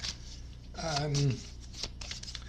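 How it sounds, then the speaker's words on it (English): A deck of cards is riffled and shuffled in quick papery bursts while a person talks over it. "And then what you can do is shuffle the deck."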